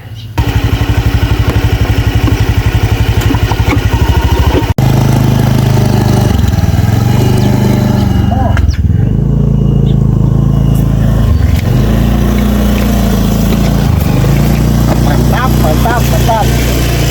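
Motorcycle engine running up close, a loud rapid buzzing idle at first, then revving in repeated surges and dips, with people talking over it.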